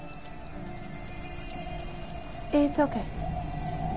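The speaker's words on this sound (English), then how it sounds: "Oh, it's pouring rain!" Pouring rain in Detroit: Become Human makes a continuous hiss behind the scene, and brief speech breaks in partway through.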